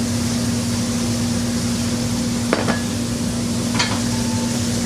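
Rice stirred in a frying pan with shrimp, a constant soft sizzle and hiss with two short spoon scrapes against the pan, close up and without talk.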